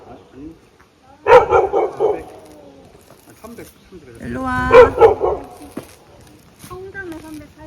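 A dog barks in two short clusters of several quick yips, close by, mixed with people talking.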